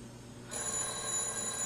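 A telephone starts ringing after a short quiet moment, a bright sustained electronic ring that is loud and near, with no one speaking.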